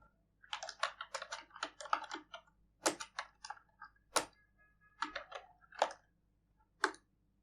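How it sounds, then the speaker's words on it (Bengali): Close keyboard typing on a computer during an Arch Linux install, with irregular bursts of clicks and several sharper single key presses, fairly quiet with no voices. "এন্টার প্রেস করি, ওয়াই এন্টার।"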